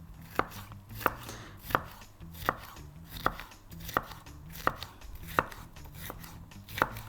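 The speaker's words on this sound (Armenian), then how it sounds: "Դեղիներ կտրատենք ու սկսենք սոխը եւ բղբեղը տապակել։" Yellow bell peppers are chopped with a knife on a cutting board, about ten crisp, evenly spaced strikes in a steady rhythm, close up with no talking.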